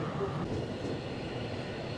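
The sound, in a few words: Glacier Express train running through Switzerland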